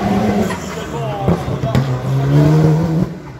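A Volkswagen Polo Rally2 car idling and revving at the start line of a rally stage in Antibes, the engine note rising and falling in close, loud bursts while a commentator talks over it.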